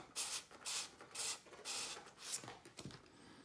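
A replacement carbon quiver tip for an older Abu fishing rod being sanded on sandpaper, giving short bursts of dry rubbing strokes in an uneven rhythm, close and fairly quiet.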